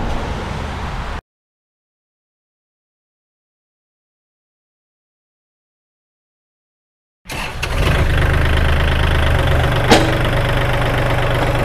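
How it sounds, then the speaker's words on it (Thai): A used Kubota L3218 tractor, a 2020 model with a front blade, has its diesel engine running at a steady idle. It is close and loud and starts abruptly after a stretch of silence. "รถสตาร์ทติดง่ายนะคะเครื่องนิ่มมากๆเลยนะคะ"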